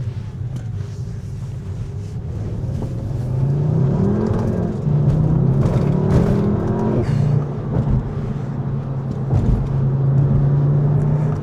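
A new Volkswagen Jetta driven on the road, its engine droning loud and near as it accelerates with rising and falling revs across several gear changes, under steady road and wind noise.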